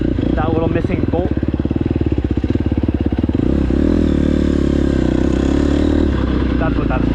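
A KTM 250SX-F dirt bike with a missing exhaust-side bolt by the silencer runs close up, its engine pulsing in a fast rattling rhythm that smooths into a steady drone partway through.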